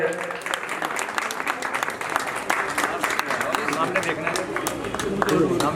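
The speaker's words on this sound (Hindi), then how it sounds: "एक बार जोरदार तालियों से" Crowd applause at an outdoor road-naming ceremony, a dense, continuous patter of many hands with faint crowd murmur beneath.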